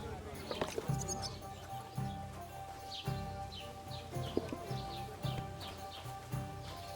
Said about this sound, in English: Look at them human horses.